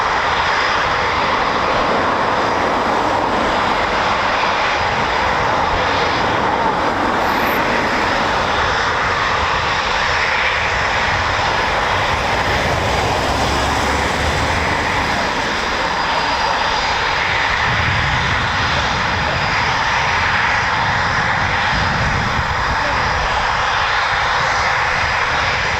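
An RAF 41 Squadron Typhoon FGR4 fighter jet roars loudly and steadily for over twenty seconds at RAF Coningsby, a broad, sustained engine rumble with no talk.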